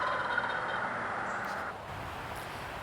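A wild turkey tom gobbles in a yard with remnant pine-oak forest and old oaks beside a busy road, a rough, rolling call lasting under two seconds over steady broadband background noise.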